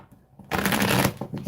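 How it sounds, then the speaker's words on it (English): Tarot cards being shuffled by hand give a quick, dense papery riffle that starts abruptly and then clatters on for about a second, close and fairly loud, with no talking. "One more shuffle after that one, and then we'll see what the cards have to say for you."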